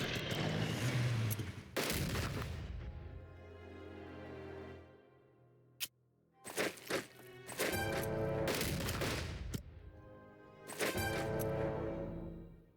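Bombing in the strategy war game Unity of Command 2 Blitzkrieg, with a loud sustained rumbling blast, a quieter gap, then a burst of sharp impacts and booms followed by two more heavy explosive bursts.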